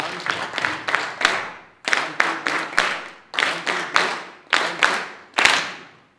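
Clapping from the audience at the launch of the US Kenya Alumni Association Eastern Region, delivered in short rhythmic groups of sharp claps with brief pauses between them, ringing in an indoor space.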